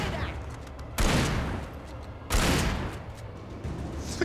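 Gunfire in the video game Alan Wake aimed at a tree, two loud separated shots each followed by a decaying echoing tail, with a fainter third shot at the end.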